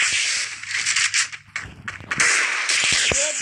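Gunshots in the Free Fire Craftland video game, with an Evo gun custom, come as a rapid string of sharp, loud cracks and snaps, dense and overlapping throughout, with no voice.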